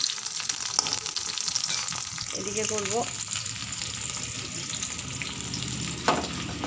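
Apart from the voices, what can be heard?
onion frying in oil with black cumin in a wok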